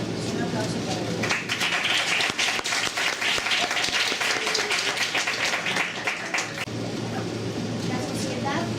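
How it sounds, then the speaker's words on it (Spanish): An audience applauds a guest expert, Marcela Lorena, at a conference on social context: sustained, dense clapping that fills the room at steady loudness, easing slightly toward the end. "Un aplauso para ella."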